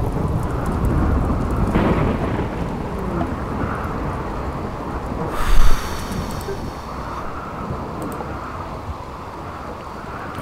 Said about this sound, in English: Oh yes, thank you rain.